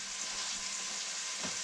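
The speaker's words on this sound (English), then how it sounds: "So now you need to flip the meat over. You just want to brown it." Pot roast meat browns in a hot pan with a steady, soft, continuous sizzle, quiet and alone with no voices.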